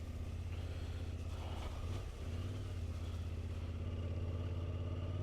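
Yamaha Tenere 700 motorcycle engine pulling steadily up a hill while green laning, a continuous loud low drone with a brief dip partway through and building slightly toward the end.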